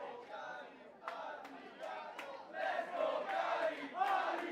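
Wrestling crowd at a Largo venue in Rome cheering and chanting, split between two competitors, a dense roar that builds with sharp rhythmic claps and shouts, growing louder toward the end.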